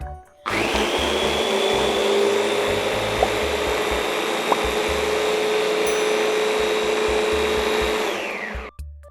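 An electric dry grinder pulverizing digestive biscuits into fine crumbs, a loud continuous whirring roar that starts abruptly, holds steady for about eight seconds with faint rattles, then spins down.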